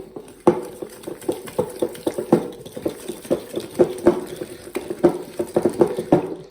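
A mixer beats cream cheese, vanilla and sugar for a double chocolate cheesecake, knocking and clattering against the bowl in fast irregular taps over a low steady whir, close and fairly loud, with no talk.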